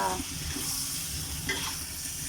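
Fish balls being stir-fried in a pan, a continuous hissing sizzle with faint scraping of stirring, even in level and fairly close.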